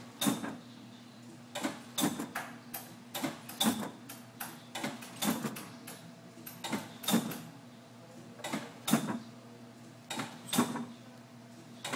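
The cylinder of a 1977 Heidelberg SORMZ offset printing press is inched slowly, giving a series of sharp mechanical clicks and clacks at irregular intervals over a faint steady hum, close and fairly quiet.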